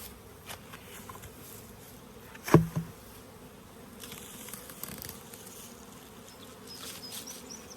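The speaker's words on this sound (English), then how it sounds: "This is full of bees now" Honey bees fill a hive as a grafted queen frame is installed, a soft continuous buzz throughout with a brief knock partway through.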